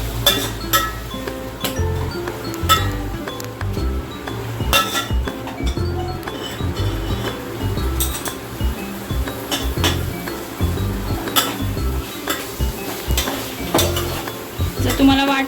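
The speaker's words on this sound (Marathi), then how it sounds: "हे चांगलं एकजीव करून घ्यायचं" A spoon stirs and scrapes through soybean veg biryani in a metal pot, giving repeated irregular clinks and knocks over a soft sizzle, close and fairly loud throughout.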